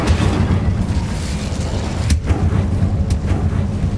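Incendio fire spell cast in Hogwarts Legacy, a steady roaring burst of flame with low rumbling body and a couple of sharp crackling flares, loud and continuous with no talk.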